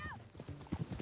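Horse hooves clip-clop at a steady walking pace in Red Dead Redemption 2, close and fairly quiet, with a brief whinny-like tone at the start and no voices over it.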